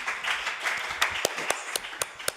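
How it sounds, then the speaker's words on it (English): A round of applause for a woman from an audience at a women's equality programme event, starting as a diffuse patter that thins into a few scattered, distinct claps toward the end. "And so I'd like us to give Anna a round of applause on this."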